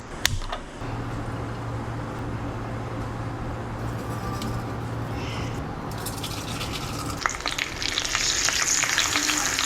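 Onion and masala fry in a pan for a Konkani paneer masala, giving a steady close sizzle with occasional stirring scrapes and clinks throughout.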